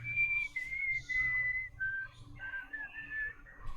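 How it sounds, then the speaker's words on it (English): A person whistles a tune alone, clear and close, with sustained pure notes that step between pitches and short breaths between phrases. "so here's some whistling"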